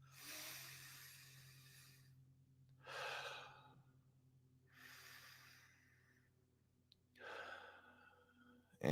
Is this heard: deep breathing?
yes